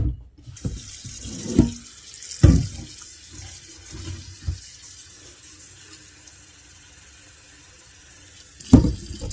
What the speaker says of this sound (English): I'm going to cover this with water.